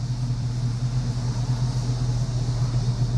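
A 2007 Chevrolet Avalanche engine runs at a steady idle close by, a loud continuous low rumble with an even drone and no talking.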